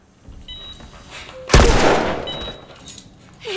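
A single loud gunshot from Joel firing at Fireflies in The Last of Us, sudden and close, ringing out with a long decaying tail after quieter ambient tones and beeps.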